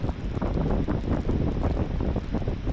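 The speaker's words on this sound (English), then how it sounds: "Got windy there." Strong wind buffets the microphone in loud, continuous low rumbling gusts, with a steady roar throughout, as a radio-controlled Pilatus PC-21 model airplane comes in to land.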